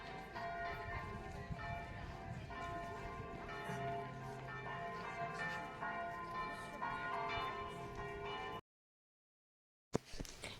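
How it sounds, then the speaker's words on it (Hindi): Cathedral clock tower bells ring out over Houlgate, Normandy, a continuous overlapping peal of resonant strikes heard from a distance outdoors, which stops abruptly before a brief resumption of ambient sound. "सामने से जो घंटियाँ बज रही थी वो एक कैथेड्रल है"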